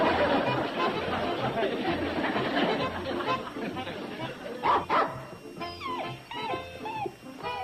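A dog yips and barks a few times among busy overlapping chatter, with some whimpering squeaks near the end.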